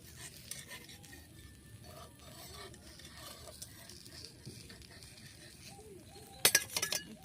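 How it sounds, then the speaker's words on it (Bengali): A metal spatula lifts a mango patishapta out of a pan: soft, faint scraping throughout, then a few sharp, close clinks near the end. "এবার আমি খুন্তি সাহায্যে তুলে নিচ্ছি"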